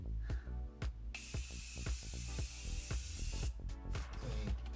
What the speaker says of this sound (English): Okay, so I'm gonna go ahead and spray this.